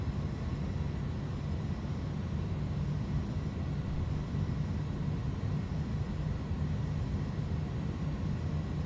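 Airliner engines at full takeoff throttle in Microsoft Flight Simulator 2020, departing Huntsville, Alabama, a steady, loud, continuous low roar that holds unchanged throughout with no voices.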